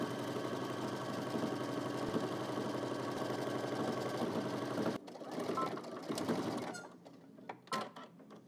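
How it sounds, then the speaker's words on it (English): A sewing machine runs at steady speed stitching a 5/8-inch seam around a pair of shorts, then halts at about five seconds and restarts in short uneven bursts. "let's head to the machine, and we're going to stitch all the way around using 5/8 of an inch seam allowance"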